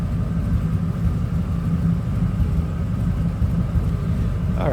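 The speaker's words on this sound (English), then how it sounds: "283 does have headers on it. Get a little bit of rumble out of it," A 1958 Chevrolet Biscayne two-door post with a 283 V8 and headers idles with a deep, steady low rumble that stays close and even throughout.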